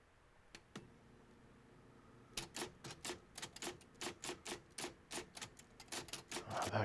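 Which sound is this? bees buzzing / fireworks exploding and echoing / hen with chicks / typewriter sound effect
typewriter sound effect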